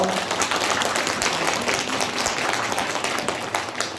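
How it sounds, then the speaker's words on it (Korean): Audience applause at a Democratic Party election rally for the 20th presidential race in Gwanak, Seoul, a dense steady wash of many hands clapping that holds throughout at even loudness. "서로에게 큰 격려의 박수 부탁드리겠습니다."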